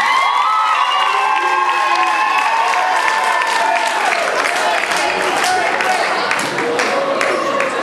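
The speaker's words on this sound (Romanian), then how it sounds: "Se aplaudă." An audience at a school freshman ball at Liceul Tehnologic "Ion Creangă" in Curtici applauds and cheers loudly and without a break as the Miss and Mister winners come on stage, with shouts and whistles mixed into the clapping.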